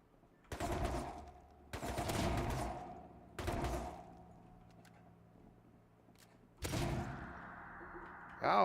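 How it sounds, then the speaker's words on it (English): Gunfire from players in Rust arrives as several loud, separated bursts of rapid shots, each trailing off into a ringing decay, with quieter gaps between them. "got people shooting at me"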